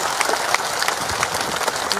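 Crowd clapping at an election rally, a steady brisk patter of many hands filling the space at moderate loudness, with no voice over it.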